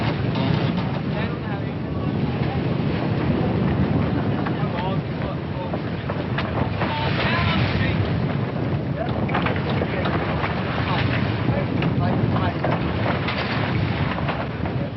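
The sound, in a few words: gale-force wind at sea on a sailing boat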